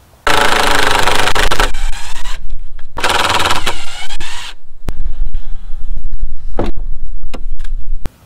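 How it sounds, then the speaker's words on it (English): A loud power drill or driver whines in two long bursts, backing screws out of a log cabin Alaskan mill setup, followed by sharp clicks and a third sustained run, close to the mic. "I'm going to unscrew these screws here and move this out of the way."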